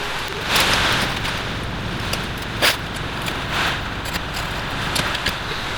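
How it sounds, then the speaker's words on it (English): Heavy rain falls outside a garage in a dense, steady hiss with occasional louder drops and gusts, close and filling the space. "hopefully the rain's not too loud"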